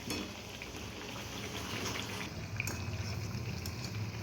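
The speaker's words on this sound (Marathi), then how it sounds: "आता आपण भजे पलटी मारून घेऊया" Potato bhaji sizzle in hot oil over a medium gas flame as they are turned in the pan, a steady crackling hiss with scattered pops and a few sharper clinks.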